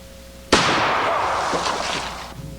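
A single loud revolver shot fired from the hip with a jungle-style cruiser revolver, a sharp close crack followed by a long decaying echo outdoors.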